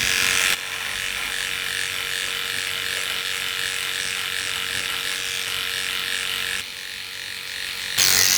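A Philips Series 5000 electric shaver trims facial hair, giving a loud continuous close buzz that holds steady for several seconds, drops briefly and then surges again at the end, with no talking.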